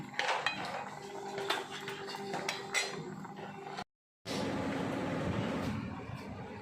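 Boiled pangasius fish is lifted out of a pot into a dish, with clattering and clinking of metal utensils and cookware, a short silent break, then a steady background hiss.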